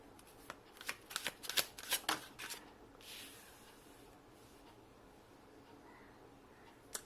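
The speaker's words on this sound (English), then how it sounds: "Let me pull one more card." Tarot cards shuffled in the hands during a reading, a quick burst of crisp riffling flicks close by, followed by quieter handling as a card is drawn.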